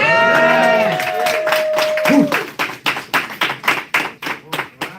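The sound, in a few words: audience applause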